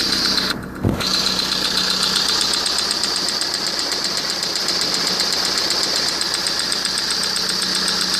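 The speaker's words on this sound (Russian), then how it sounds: "беспокоит стук двигателя, звонкий" Car engine idling with a sharp, ringing knock coming from near the water pump, a steady rapid metallic ticking running under the engine hum, preceded by a brief thump near the start.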